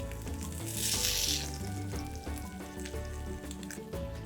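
Lamb shank searing in a pan with a cinnamon stick and bay leaf for a Tunisian spiced stew, a steady close sizzle of frying that swells briefly early on and then holds at an even level.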